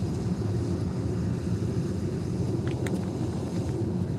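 A 3.8-liter supercharged Buick GNX from Forza Horizon 5 cruises with a steady, loud, low engine rumble and road drone, broken by a brief higher chirp near the end, with no voices.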